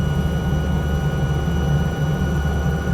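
A helicopter in Microsoft Flight Simulator gives a loud, steady, whining engine drone with a low rumble beneath, unbroken throughout.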